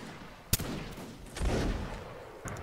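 Musket volley fire during a Napoleonic line battle in the video game Mount and Blade: Napoleonic Wars: a sharp crack, then a rolling ragged burst of shots, with another faint shot near the end.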